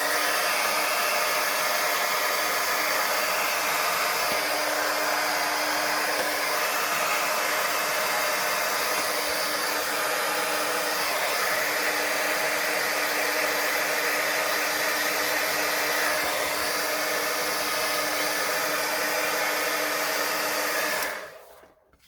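A hair dryer blows steadily while drying a watercolor painting, a loud, constant airy roar with a steady hum that runs unbroken for about twenty seconds before switching off.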